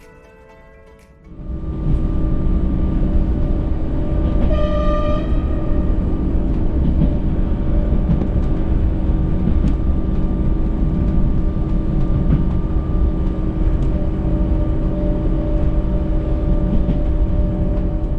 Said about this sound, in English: we can also finally listen to the sound of our ÖBB class 5047